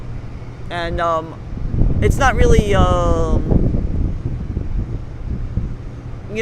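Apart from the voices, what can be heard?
wind on a Manhattan rooftop at night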